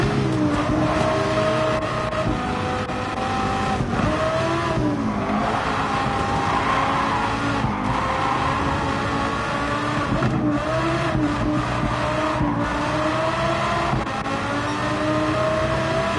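Race car engine in Gran Turismo 7 on the Nürburgring Nordschleife roars steadily and loudly throughout, its pitch rising and falling through gear changes and revs, with occasional tire squeal and no talk.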